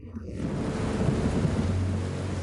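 Steady heavy rain roaring continuously, a dense wash of noise with a low rumble underneath.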